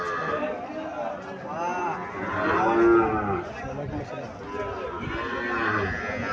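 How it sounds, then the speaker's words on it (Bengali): Calves moo repeatedly at a busy village cattle market, drawn-out bovine calls rising and falling over a constant crowd murmur and nearby chatter, with one louder moo in the middle. "এখানে দুইটা বাছুর দেখা যাচ্ছে।"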